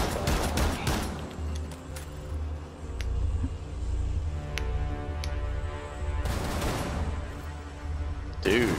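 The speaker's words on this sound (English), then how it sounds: "Dude, is that a shotgun?" Loud gunfire bursts from a shotgun in the tactical shooter Rainbow Six Siege, with heavy blasts near the start and again later, under and between voices talking.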